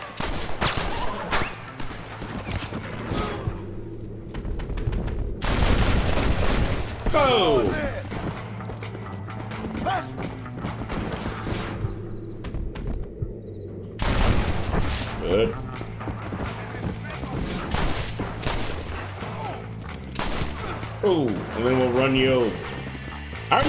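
Gunfire in the Western video game Red Dead Redemption, a series of sharp shots and mechanical clicks mixed with ongoing game sounds and voices, with people talking throughout.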